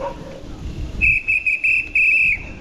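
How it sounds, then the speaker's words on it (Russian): A safety whistle blown against bears on a forest bike ride sounds in several sharp, loud, shrill bursts of uneven length after a stretch of muffled rumbling. "Свисток."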